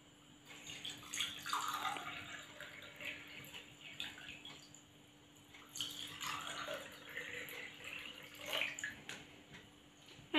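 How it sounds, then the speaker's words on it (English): Water being poured into two glass tumblers in two separate splashing, trickling bursts, with a quiet gap between them and a steady faint hum underneath. "First, add the water in both tumbler."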